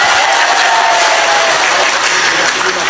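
An audience at a Ramadan religious gathering in Temanggung, Central Java, applauds the village head with loud, continuous clapping and some faint cheering mixed in, sustained for about three seconds.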